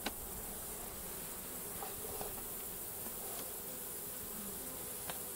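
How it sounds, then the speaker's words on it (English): Honeybees drone steadily from an opened, struggling hive with sluggish, dark old bees, a dense continuous buzz filling the scene up close with a few faint clicks and knocks from handling the boxes. "Bees are sort of sluggish."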